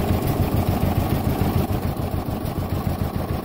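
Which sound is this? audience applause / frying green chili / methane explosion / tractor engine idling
tractor engine idling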